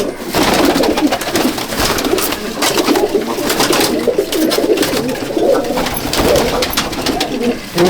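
A dense, steady chorus of Andhra and Malwai pigeons cooing nearby in a crowded loft, many overlapping low calls with wing rustles and light clatter, continuous and loud throughout.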